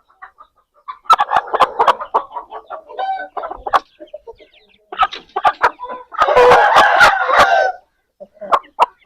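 Aseel hens and a rooster clucking close by in irregular bursts, with one longer, louder stretch of calling toward the end.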